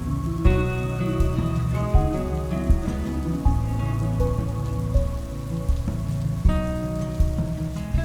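Rain falls steadily in Norway, a constant close patter on a surface, with tonal music playing over it throughout.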